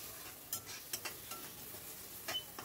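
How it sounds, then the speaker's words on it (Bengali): A spice mixture is stirred in a cooking pan, giving scattered soft scrapes and light clicks over a faint sizzle. It stays quiet and close, with no voices. "আবারও সব কিছু ভালো করে নাড়াচাড়া করে মিশিয়ে নিচ্ছি, যাতে পোড়া না লেগে যায়।"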